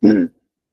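A single short throat-clearing cough, close and fairly loud, then silence.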